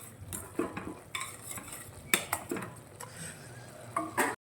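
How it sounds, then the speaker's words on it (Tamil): A spoon stirs masala through kurma in a metal pan, giving irregular scraping and clinking strokes over a low sizzle, close and moderately quiet. "எல்லாத்தையும் நல்லா மிக்ஸ் பண்ணிடுங்க"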